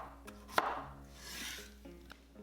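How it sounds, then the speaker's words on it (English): A knife cuts potatoes into 1-inch pieces on a board, with one sharp chop and a couple of softer taps and slides, quiet and close, no talking. "cut the potatoes into 1-inch pieces"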